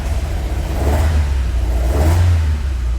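A 1956 Alfa Romeo Giulietta Spider four-cylinder engine, undergoing generator and regulator testing, revs loudly and close up in two swelling pulls over a steady rumbling idle, with no voices.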